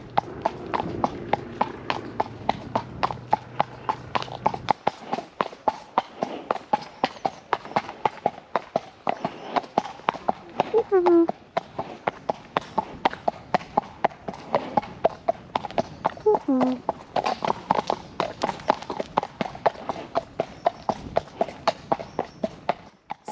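Hooves of Woody the horse clip-clopping in a steady walking rhythm, close and clear, with a few snorts and brief voice sounds in between.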